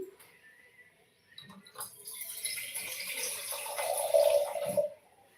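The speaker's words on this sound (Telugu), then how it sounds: "ఇప్పుడు వాటర్ని యాడ్ చేసుకుందాము" A short burst of water pouring and splashing into a pot of amaranth-leaf dal, rising in strength for a few seconds before cutting off, close by with no talk.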